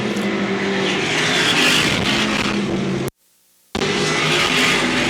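Ford Modified race cars roar around the track side by side in lapped traffic, a loud, continuous engine drone with passing swells, broken by a brief gap of near silence before the noise returns.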